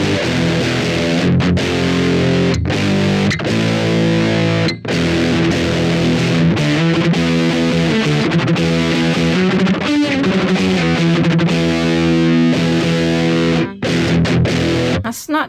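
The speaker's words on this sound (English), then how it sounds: "If I turn the distortion up more" Dense, saturated electric guitar chords roar continuously with heavy fuzz through a distortion pedal turned up high, a few brief gaps between strums, loud and close with no one speaking.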